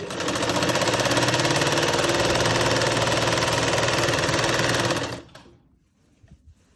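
Sewing machine running steadily for about five seconds as it stitches pleats into a salwar, a loud continuous close whir that cuts off abruptly, leaving near silence.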